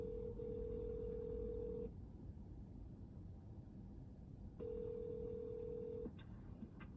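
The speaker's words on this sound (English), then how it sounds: "Okay, dialing. Using OnStar hands-free calling." An in-car OnStar hands-free system dials 911, giving two long steady electronic call tones separated by a gap of hiss over a constant low hum.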